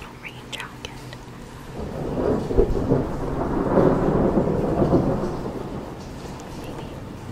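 Rain with low rumbles of thunder building through the middle and fading toward the end, heard softly behind a quiet, softspoken voice in a cosy indoor setting.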